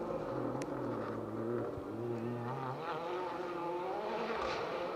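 A rally car roars past at speed on a four-wheel-drive rally stage, its engine revving and shifting, with a continuous, fairly distant mechanical drone and no voices.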